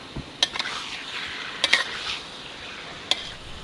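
Barking deer meat stir-fried in a wok with cumin leaves for a spicy dish: a low sizzle with a few sharp metal clanks and scrapes from the spatula, fairly close and alone.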